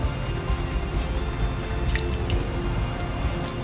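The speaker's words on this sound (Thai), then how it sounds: "จากนั้นเติมกะทินะคะ" Coconut milk poured into a cooking pot for a Thai rice noodle curry with tempeh and white krachai, a continuous wet gurgling stream with soft squelches, close and steady throughout.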